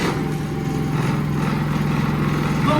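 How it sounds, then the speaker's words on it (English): Predator 3500 portable generator idling in eco mode on a table, a steady close engine drone at low RPM with a constant low hum and faint rattle, loud and unbroken throughout. "I got the generator up on the table here running."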